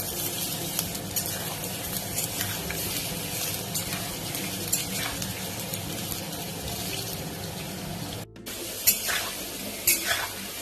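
Sliced potatoes sizzle in hot mustard oil with nigella seeds, a close continuous frying hiss broken by a few stirring clatters near the end.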